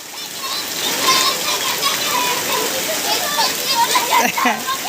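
First monsoon rain falls in a Konkan village, a steady wash of water and splashing all the way through, with children shouting and playing close by.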